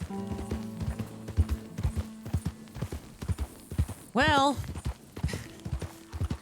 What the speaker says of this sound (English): Galloping across the open terrain.